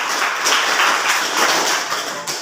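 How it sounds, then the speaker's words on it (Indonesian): A classroom crowd applauding for group 2, a dense, steady wash of many hands clapping together at close range, sustained for a couple of seconds before tapering off. "tepuk tangan untuk"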